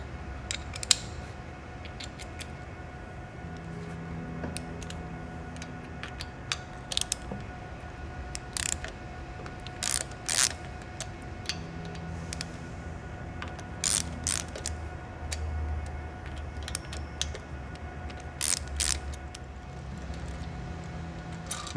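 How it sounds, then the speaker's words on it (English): Rocker shaft bolts on a shaft-mount rocker arm assembly being loosened with a T45 torque socket and ratchet, giving repeated close ratcheting clicks and metallic ticks in short bursts over a quiet workshop background. "take our torque socket, T45, and we can remove those bolts"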